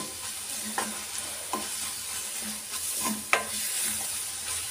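Chilli powder and curry leaves frying in a pan, a soft continuous sizzle broken by several light, spaced stirring scrapes, close and moderately quiet with no talking.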